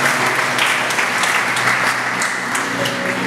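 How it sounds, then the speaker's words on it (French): A church congregation applauds during a Sunday worship service after a Bible reading, a dense, steady wash of many hands clapping at an even, fairly loud level throughout, with no voices heard over it. "Acclamons la parole du Seigneur."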